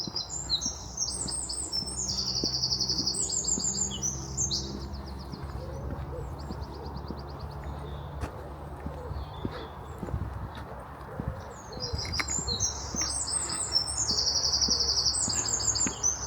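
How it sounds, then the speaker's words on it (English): Birds sing in repeated bright chirps and trills over a low outdoor hum during an early morning walk, with the song clustered at the start and again near the end. "Oh, listen to the birds."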